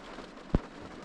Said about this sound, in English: enjoying and embracing the rain